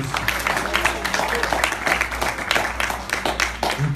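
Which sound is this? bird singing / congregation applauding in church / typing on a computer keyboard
congregation applauding in church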